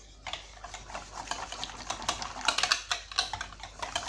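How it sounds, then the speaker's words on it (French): Crêpe batter and milk are whisked in a bowl with quick, rhythmic clicking strokes close by, growing busier toward the end. "Je vais bien mélanger pour ne pas avoir des grumeaux."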